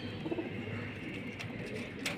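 Soft, low cooing of pigeons close by, a few throaty coos with a faint chirp near the end, no talking.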